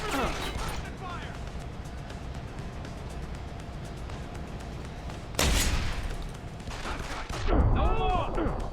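Gunfire erupts in a firefight in the Deus Ex: Human Revolution video game, a dense burst of shots at the start, then a steady rumbling backdrop under talk, with heavy blasts and crashes near the end.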